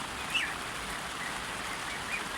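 Steady rain falls outdoors as an even, continuous hiss, with a few faint bird chirps showing through now and then.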